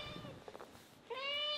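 A pet cat meows twice, a short chirpy call followed by a longer, rising meow, close and fairly loud in a quiet room.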